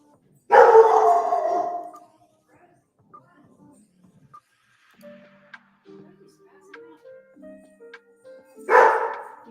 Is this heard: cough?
no